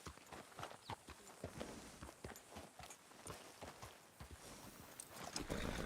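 Horse hooves clip-clop in Red Dead Redemption: a steady, rhythmic series of close hoofbeats at walking pace, moderately quiet and alone.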